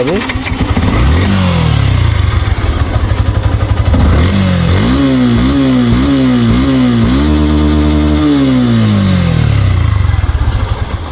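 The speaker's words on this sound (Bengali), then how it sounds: "বাইকের যদি সাউন্ডটা আপনাদেরকে দেখায় স্টার্ট করে দেখুন এই টাইপের" A second-hand Yamaha FZS motorcycle engine cranks and catches, then revs in a series of quick rising pulls before settling back to a steady idle, loud and close throughout.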